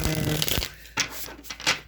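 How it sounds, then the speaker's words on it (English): A deck of tarot cards is shuffled by hand up close, with soft riffling and several crisp slaps and flicks of the cards, while a quiet voice is faintly present early on. "I'm going to just shuffle a little bit more here because I'm hearing I need to shuffle again"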